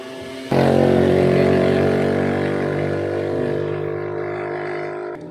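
A freshly rebuilt motorcycle engine that is still noisy bursts into life after a brief moment and keeps running loud and steady, with a dense rumbling drone and slightly uneven mechanical clatter.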